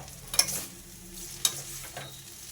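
Egg noodles tossed with chilli powder in a pan, giving a low, quiet stirring rustle broken by two or three brief spatula scrapes against the metal.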